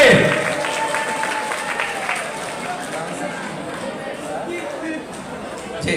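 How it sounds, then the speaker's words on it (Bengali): Audience clapping for celebrities at an event, a dense, continuous wash of applause and crowd noise with a voice over the top at first. "সমস্ত সেলিব্রিটিদের জন্য একটা জোরে করতালি আশা করছে।"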